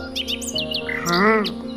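Bright, quick bird chirps and tweets in a cartoon garden scene, several rapid calls over a steady tonal hum, with one longer warbling call near the end.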